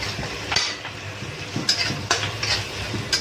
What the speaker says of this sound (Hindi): ये देखिए अदरक लहसुन और मिर्च का पेस्ट भी डल गया। इसको हल्का सा गोल्डन ब्राउन करना है।